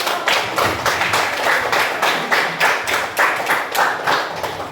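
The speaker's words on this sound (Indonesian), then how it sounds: "Oke, tepuk tangan dulu." A group claps hands together in a steady rhythmic beat, about ten to twelve sharp unified claps close by, with no talking over them.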